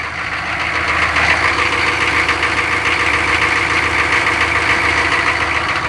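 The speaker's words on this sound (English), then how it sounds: "Nice quiet exhaust." A diesel truck idles steadily on a cold morning, its quiet exhaust giving a continuous, close, even rattling drone with a faint knocking texture and no talking.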